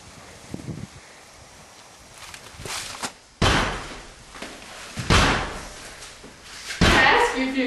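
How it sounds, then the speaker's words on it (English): A front door being broken down: heavy slams and thuds strike at irregular intervals, loud and close, with a background murmur of voices between the impacts. "they're breaking down the front door"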